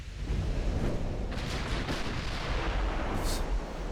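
Naval guns fire from warships in Ultimate Admiral: Dreadnoughts, with heavy continuous booming and rumbling artillery and a few sharper reports over a dense low roar.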